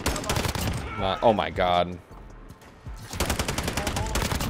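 Rapid automatic fire from the Finn LMG light machine gun in Modern Warfare, loud bursts before and after a short pause, with a voice reacting excitedly in the middle.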